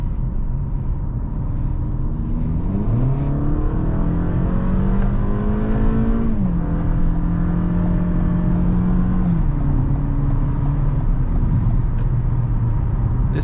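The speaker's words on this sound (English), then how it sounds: "I did put it in sport mode, and we're gonna do an acceleration again" A 2024 Toyota Camry's 2.5-litre naturally aspirated four-cylinder engine revs and accelerates steadily in sport mode, its pitch climbing through several gear shifts over a continuous, loud drone.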